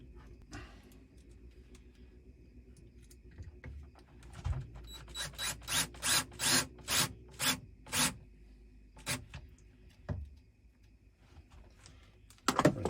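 Screw driven by hand into a stovetop cover in a truck camper, working into wood that is not pre-drilled, a run of about eight rhythmic grinding turns followed by a few slower creaks, close and fairly quiet.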